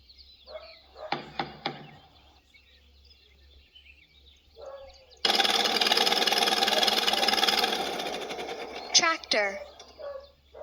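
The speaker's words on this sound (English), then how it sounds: "Tractor." A tractor engine in a children's animal-sounds game starts abruptly and runs loud and steady for a few seconds with a rough mid-pitched drone, after some brief barks and other animal calls, with a voice speaking faintly.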